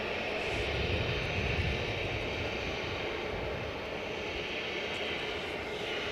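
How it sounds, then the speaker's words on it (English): A departing jet airliner taking off from Edinburgh Airport, a steady loud engine roar with rumbling low end that holds throughout, slightly easing toward the end, with no talk over it. "We'll stay with the departing jet."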